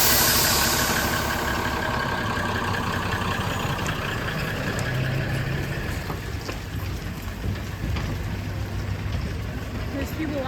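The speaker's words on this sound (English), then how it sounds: "It's led by like a proper tractor." A full-size tractor hauls a tourist trolley up a hill in Romania, giving a steady low engine drone that runs throughout, mixed with wind noise and faint voices.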